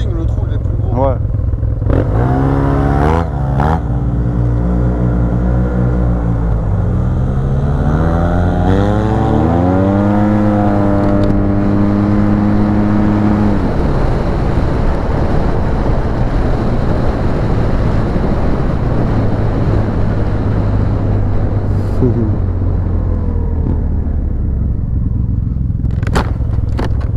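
A 2015 Yamaha TMAX 530 scooter fitted with a full Malossi racing exhaust revs loudly and close by, its engine note rising and falling through several throttle blips before settling into a steady idle, with voices talking over it.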